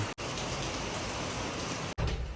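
Dense, constant hiss of heavy rain pouring down, loud and uniform, with a couple of brief cutouts.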